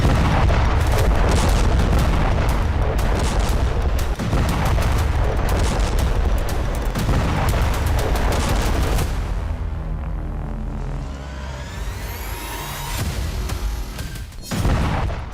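Explosions in North Korea: a dense, loud barrage of booming blasts and crackling detonations rolling continuously, then thinning to scattered bangs and a fading rumble near the end.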